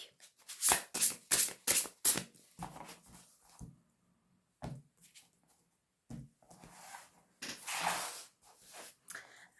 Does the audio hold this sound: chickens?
no